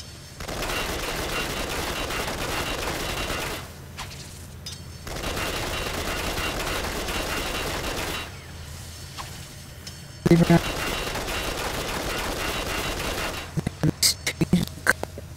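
Gunfire from Black Mask in the video game Batman: Arkham Origins Blackgate: long sustained bursts of rapid automatic fire with short pauses between them, ending in a scatter of separate sharp shots, loud and close.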